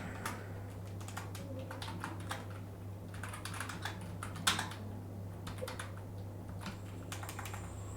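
Typing on a computer keyboard while entering text into a Figma text box: a steady run of quick, light key clicks in bursts and pauses, close but soft over a constant low electrical hum, with no talking.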